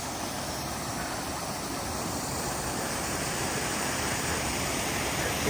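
Water trickling through a small sluice at a diversion channel for irrigation at a campsite in Abel Tasman National Park, a steady, close, unbroken rushing wash with no other sounds.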